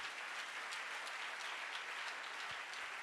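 A church congregation claps together in sustained, dense applause at a sermon, a fairly faint, even wash of hand claps from a crowd with no distinct voices.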